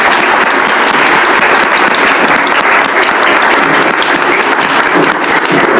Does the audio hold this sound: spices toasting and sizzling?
no